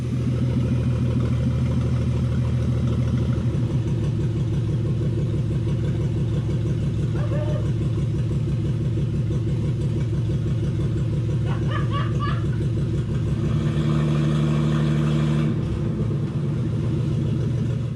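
A rebuilt car engine runs steadily with a loud, low rhythmic rumble and pulsing idle, a few brief metallic ticks and rattles over it, and a slight shift in tone near the end.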